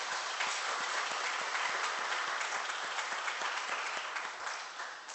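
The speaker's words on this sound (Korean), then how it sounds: "자, 우리 다 함께 박수로 환영하겠습니다." Church congregation applauding to welcome newcomers during a Sunday service: a full, even round of clapping from many people that fades slightly toward the end, with no talk over it.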